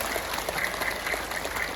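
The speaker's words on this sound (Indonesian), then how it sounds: "Tepuk tangan dulu sekali lagi buat panitianya" An audience at an Isra' Mi'raj religious gathering gives a brief burst of steady, even clapping.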